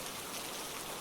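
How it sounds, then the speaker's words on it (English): Steady rainfall, a dense, even hiss of drops pattering on surfaces, soft and continuous with no voices. "The sound of the rain continued"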